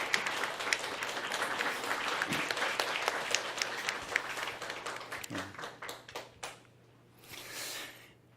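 A church congregation applauds steadily in a large hall during a Sunday service, the clapping thinning into scattered claps before fading out.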